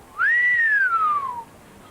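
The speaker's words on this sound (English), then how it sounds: "Billy whistled." A single person's whistle, a clear rising then slowly falling tone held for over a second, close and alone with no talking.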